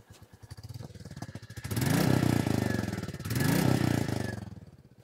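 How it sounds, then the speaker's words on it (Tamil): A Royal Enfield Meteor 350 motorcycle engine idles with a steady low thump, then is revved twice in smooth rising swells, each peak building and easing off before it settles back toward idle. "அப்படி ஸ்மூத்தாக ஸ்போர்ட்டியான ஒரு தம்போட வந்து வண்டி வந்து ரெவ் ஆகுது"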